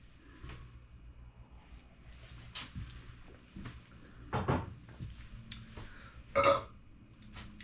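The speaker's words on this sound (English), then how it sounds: "Sorry about the burp." A man burps during a cable-machine workout, one loud short belch near the end following scattered clunks and rustles, with no talk.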